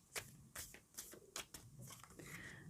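Cards being shuffled up close, with several quick riffling bursts and soft papery rustles between them, and no talking.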